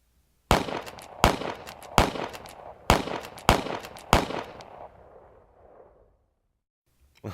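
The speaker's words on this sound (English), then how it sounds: "If I had a gun sound effect," Six sharp gunshot sound effects fire in an even rhythm, each loud crack trailing into a short echo, the last tail fading out before a brief noise at the very end.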